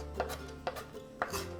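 A knife chops fresh dill on a cutting board in three crisp, close strikes, spaced about half a second apart, with no talking.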